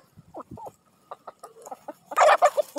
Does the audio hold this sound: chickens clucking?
yes